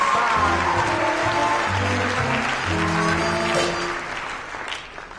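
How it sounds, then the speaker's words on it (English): A theatre audience at a high school stage musical claps through a stretch of accompanying music, the applause loud at first and then tapering off toward the end. "a warm round of applause for Nick Cricker"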